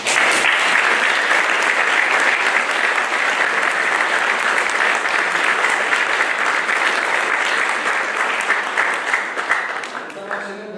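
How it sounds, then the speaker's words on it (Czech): Sustained, loud audience applause at a concert, a dense wash of clapping holding steady for several seconds before thinning out at the end. "takže velký potlesk."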